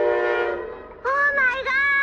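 A train horn sounds in two sustained, harmonic blasts, the second louder and steadier, heard close and fairly loud over a low rumble, with no speech over it.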